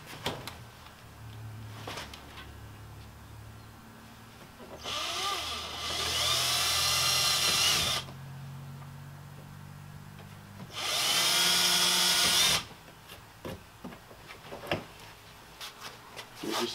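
A power drill pre-drilling a hole for a kayak anchor trolley runs in two bursts of a couple of seconds each, close and loud, with quiet handling noises before, between and after.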